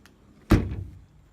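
A single solid thunk as the car door of a 1970 Mini Countryman Estate "Woody" swings shut, close and fairly loud, followed by a short rattle and then quiet.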